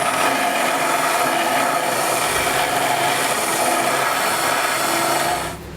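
A power tool grinds to enlarge a hole in the metal trailer hitch mounting on a 2022 Nissan. It makes a loud, continuous, close abrasive whir that stops abruptly near the end, with no talking.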